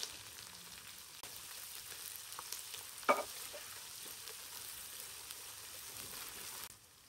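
A cup of onions frying in hot oil with cumin, a faint, steady sizzle throughout, with one brief clatter partway through before the sound drops away at the end.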